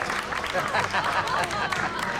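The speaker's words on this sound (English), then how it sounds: "how about a round of applause for the man of the hour, huh?" Applause from a small group at an office waffle party in a television drama preview, brief clapping and cheering mixed with talk and crowd noise.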